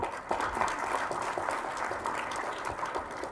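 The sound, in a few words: applause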